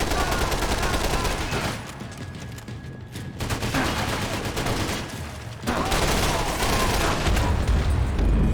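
Rapid gunfire bursts in Max Payne 3, dense crackling volleys that pause briefly and resume, loud and sustained.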